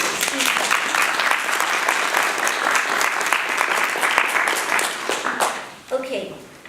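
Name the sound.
audience applause for guests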